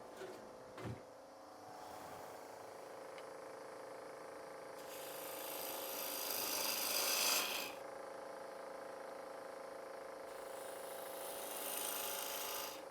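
A wood scraper shaping a wooden honey pot on a lathe, heard as a steady rasping scrape over a low motor hum, swelling into louder bright scraping passes midway and again near the end.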